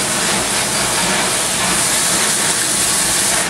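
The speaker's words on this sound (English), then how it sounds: "You want to take the hose and rinse everything off." A water hose sprays steadily into a tub being rinsed out in a cafeteria, a loud continuous hiss and rush of water that holds without a break for the whole stretch.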